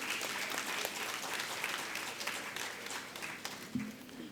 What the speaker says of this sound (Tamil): ஒரு பலத்த கைத்தட்டல் எல்லாருக்கும்